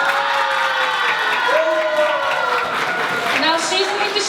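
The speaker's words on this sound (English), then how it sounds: "please welcome Teacher Jessie as a government whip with a loud applause" Loud, dense applause and cheering from a summer debate camp audience, with whoops and excited voices rising over the clapping throughout.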